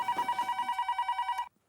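A telephone bell rings indoors in rapid, evenly pulsing trills for about a second and a half, then stops abruptly, fairly quiet and with no voices.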